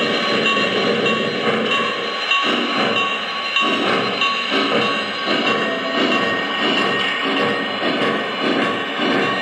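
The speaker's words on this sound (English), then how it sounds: "I will release the train brake, which will then give us our wheel slip" A rumbling, chugging train sound effect from a Lionel Vision Line O scale Union Pacific Big Boy model locomotive, with rhythmic surges and a steady hum, loud and close, simulating wheels slipping and grinding.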